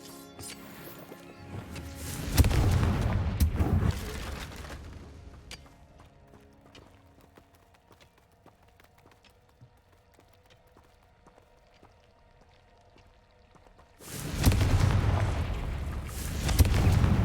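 Bombarda and Confringo spell blasts in Hogwarts Legacy go off in two loud bursts of booming, rumbling impact, one near the start and another near the end, with a long quieter stretch of low game ambience between them.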